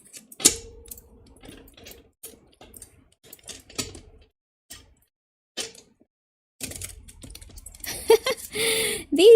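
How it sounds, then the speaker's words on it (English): Tarot cards shuffled by hand with rings on the fingers, giving a series of short crisp riffling and tapping bursts with pauses between, close and fairly clear, ending in a louder denser flurry of handling noise. "These rings are not letting me shuffle properly."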